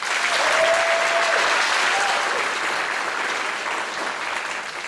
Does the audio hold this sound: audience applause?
yes